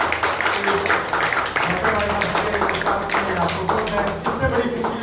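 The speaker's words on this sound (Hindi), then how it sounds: "जोरदार तालियां के लिए।" Loud, continuous applause from a gathered crowd at an event honoring a guest, with rhythmic clapping and voices talking over it throughout.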